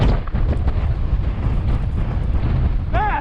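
A strong wind rushes through Eagle Canyon and batters the microphone of a rider with a loud, steady broadband roar. A faint whistling tone rises briefly near the end.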